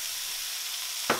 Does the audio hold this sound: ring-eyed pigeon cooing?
no